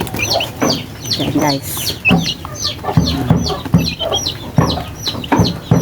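A recovering chick chirps in short, high, repeated peeps, fairly close and loud, with clucking from other fowl nearby and a brief spoken phrase.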